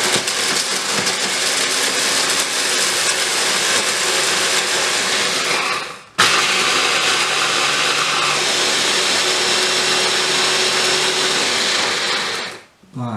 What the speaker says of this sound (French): Une fois que mon robot est rempli, avec donc la lame en S, c'est vraiment lui qui fait du coup tout le travail.